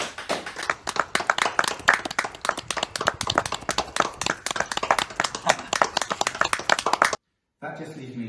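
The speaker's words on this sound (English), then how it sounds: "giving the boys a round of applause" A round of applause from a small group at a school end-of-year awards, steady rapid clapping for about seven seconds, then it stops and a faint voice follows.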